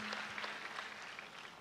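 Faint, steady applause from a church congregation at a Sunday service, sustained clapping heard at a distance with a soft hum underneath.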